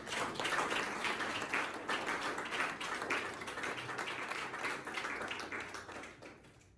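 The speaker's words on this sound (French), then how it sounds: "Applaudissez cette parole." Applause from a church congregation during a sermon, a dense, steady wash of clapping that holds for several seconds before thinning out at the end.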